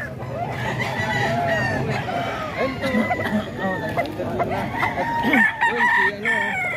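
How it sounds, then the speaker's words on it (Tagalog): Roosters crow repeatedly and chickens cluck loudly close by, a busy barnyard chorus with people talking underneath. "maraming manok."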